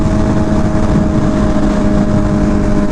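An MV Agusta Rush motorcycle engine drones steadily and loudly up close, a continuous low roar with a faint steady whine running through it, holding at a constant level throughout with no voices.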